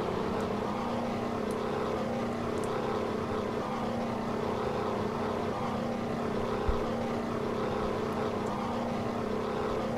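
Republic P-47D Thunderbolt radial engine running with water injection boost in a flight simulator, a loud, steady droning roar with a constant tonal hum, unbroken for the whole stretch.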